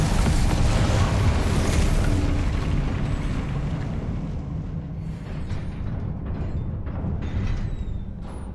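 A fiery spell blast from the Incendio charm in Hogwarts Legacy, a loud, sustained roaring burst that fades slowly into a rumbling tail.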